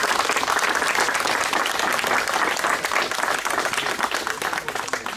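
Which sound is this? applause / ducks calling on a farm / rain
applause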